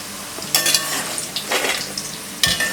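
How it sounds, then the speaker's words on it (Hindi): Potatoes fry in a kadhai until golden: a steady, close sizzle with a few louder bursts as they are stirred and shifted. No voices are heard. "आलूओं को हमने गोल्डन कलर में फ्राई कर लिया है।"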